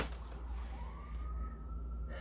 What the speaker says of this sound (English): I hear the sirens in the background, kind of faintly.